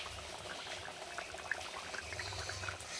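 A pot of bottle-gourd fish curry boils steadily while fish pieces are slipped in one by one. There is a continuous bubbling simmer with a few small splashes and pops, and no voices.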